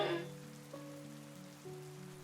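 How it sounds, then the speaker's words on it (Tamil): Heavy rain pours in an animated children's story, a steady hiss sitting under sustained musical tones that shift pitch a few times, with no voices. "எப்படி வேகமா மழை பெய்யுது பாருங்க"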